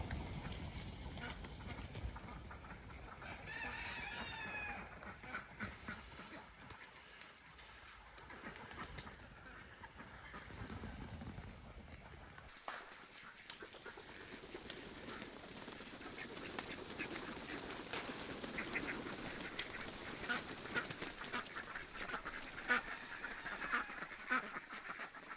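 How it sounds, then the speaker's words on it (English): Muddy farm ducks gather on a rain-filled pond, their quacking and splashing blended into a busy mix with rustling and scattered soft calls throughout. "Whoa, the ducks are coming. The ducks are coming."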